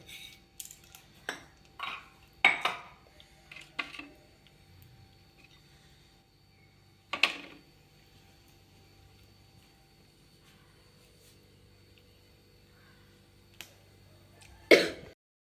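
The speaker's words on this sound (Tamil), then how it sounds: "இது கடுகு பொரியட்டும்" Mustard seeds splutter in hot sesame oil while tempering for a parboiled-rice upma, giving scattered sharp pops and crackles, a cluster early on, then sparse isolated bursts separated by long quiet gaps.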